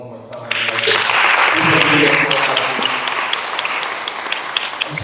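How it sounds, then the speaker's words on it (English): Event attendees at a Freeway Day celebration in Philadelphia break into a loud burst of clapping that rises quickly, peaks, then gradually thins out, with a voice briefly heard at the start. "So I would like to clap that for you one more time."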